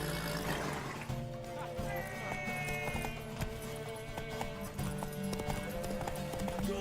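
Horse hooves clip-clop in The Witcher 3, a rhythmic series of sharp hoof strikes over the game's continuous background music and ambience, fairly faint overall.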